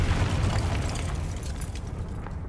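A Confringo blasting spell explodes in the Hogwarts Legacy video game, giving a loud, dense burst with a rumbling boom that fades over about two seconds.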